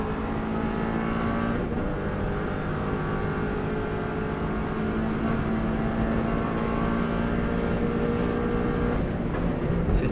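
A Subaru WRX STI accelerates hard on the Isle of Man TT road course, its engine droning loudly and steadily throughout, with rising pitch and a brief shift-like dip.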